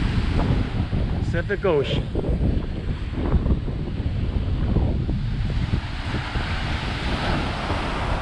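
Pacific Ocean surf and steady wind at Cabrillo Beach, a continuous broadband wash of waves with gusty wind buffeting the microphone, while someone talks close by over the roar.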